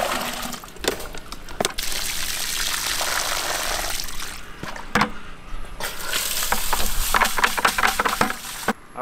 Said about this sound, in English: And then we'll rinse them again.